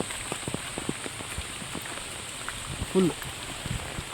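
Light rain on a forest road: sparse, scattered drops tap faintly and irregularly at close range while a person talks over them.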